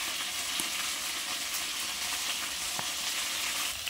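Spices, cumin and chilli paste with potatoes, sautéing steadily in a pan, a continuous close sizzle with occasional soft stirring clicks throughout.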